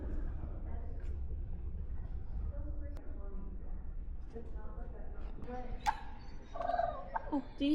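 Turkeys gobble in short bursting calls near the end, over a steady low rumble of background noise and murmuring voices at a family museum visit with ducks nearby.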